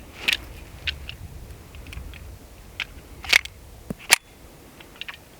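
Mud-caked Tisas 1911 pistol slide snapping into battery, a few sharp metallic clacks and clicks scattered over quiet background, with one louder crisp snap near the end.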